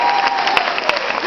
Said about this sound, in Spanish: Edgardo, el Pato Rosa, fuerte el aplauso.